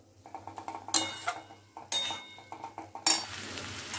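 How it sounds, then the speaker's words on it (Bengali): Spoon scraping and stirring coconut filling with melted jaggery (patali) in a pan, quick repeated clinks and scrapes with a few louder knocks against the pan, close and alone. "নারকেলটাকে সমানে নাড়াতে থাকতে হবে, নয়তো এটা নিচ থেকে লেগে যাবে।"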